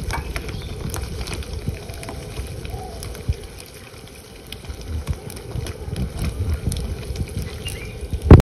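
Paneer pieces fry in a pan, browning on both sides, with a steady low crackling sizzle running throughout and a brief louder knock at the very end.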